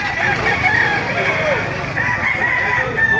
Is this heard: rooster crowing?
yes